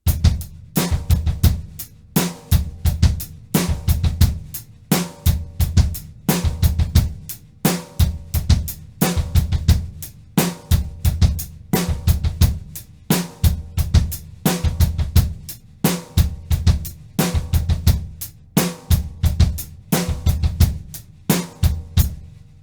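A drum kit plays a repeating groove, two snare hits and bass drum kicks on the offbeats in a steady rhythm, loud and close with no talking.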